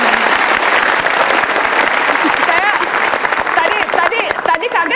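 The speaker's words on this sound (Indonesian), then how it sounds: "Kita kasih tepuk tangan untuk Lia." Studio audience applause for a guest on the Indonesian talk show Mata Najwa, a dense, loud wash of clapping running steadily throughout, with some voices and cheering mixed in.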